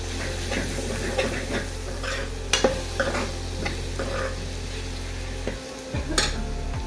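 A tadka of spices and onion fries in a pan. The sizzle is close and constant, broken by sharp stirring clanks and scrapes of the spoon against the pan, with no voices.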